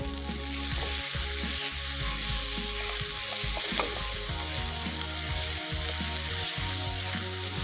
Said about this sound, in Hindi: तीस से 40 सेकंड तक आपने मिर्चों को भूनना है